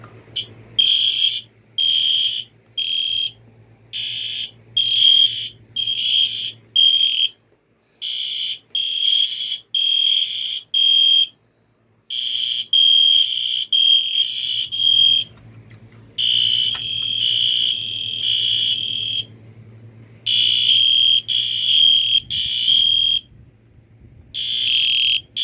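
Loud fire alarm horns, a System Sensor SpectrAlert Advance, EST Genesis and Wheelock, blare during a system test in repeated rhythmic bursts, overlapping patterns with a low hum underneath, close and piercing.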